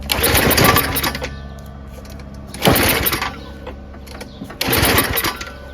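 A Yard Machines 22-inch dual-stage snowblower with a 5.5 hp Tecumseh Snow King engine, choked, at high throttle and with no gas, cranks over in three separate whirring bursts without catching, each followed by a quiet pause.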